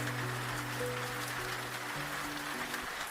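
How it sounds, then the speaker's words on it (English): Rain pouring on pavement makes a steady, even hiss of drops, with low sustained musical tones underneath throughout. "The rain poured without pause that evening, each drop hitting the pavement like a tiny drumbeat of fate."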